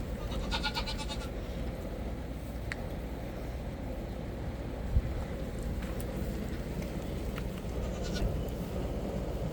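Goats bleat several times at a moderate distance over a soft, windy outdoor background, with short calls scattered irregularly through the quiet.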